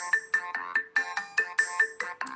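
A bright electronic phone ringtone plays a quick, repeating melodic pattern of short chiming notes, loud and close, with no voices.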